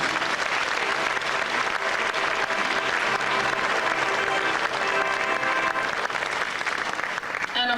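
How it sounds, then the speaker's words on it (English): Loud, sustained applause from a pageant audience fills the room, a thick continuous wash of many hands clapping for the whole stretch without letting up. "Let's give him another round of applause."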